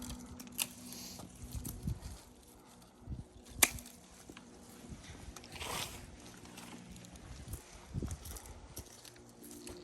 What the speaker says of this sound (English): so I'm actually going to just cut out that whole branch